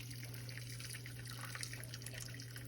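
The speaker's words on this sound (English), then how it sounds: "We really do not want all that liquid since I'm making pasta sauce. So I'm just gonna pour that out" Liquid poured off roasted tomatoes into a sink for pasta sauce, a faint steady trickle and splash of running water with a constant low hum underneath.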